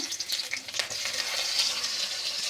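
Onion dropped into hot mustard oil sizzles and crackles steadily for a brief moment, close and fairly soft.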